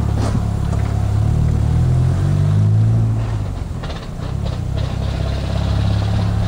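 Volkswagen Gol 1.8 with a crossflow engine running and being revved, a steady loud low rumble that rises and dips slightly with throttle, heard up close without talking.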